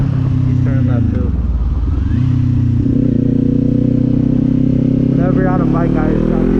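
A Kawasaki Z400 motorcycle rides on a road by day, its engine droning steadily nearby with a shift in pitch partway through, as someone talks over the engine noise.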